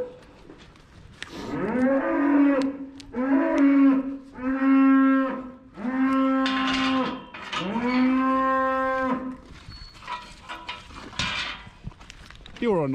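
A bunch of cattle at feeding time moo loudly and close by, several long, drawn-out calls following one another with brief gaps, with faint shuffling around them.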